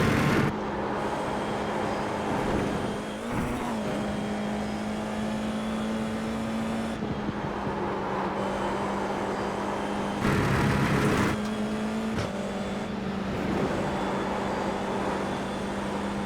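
A racing car engine in a motor racing video game drones steadily at high revs, with brief gear shifts and swells as it moves through corners, loud and continuous with no talk.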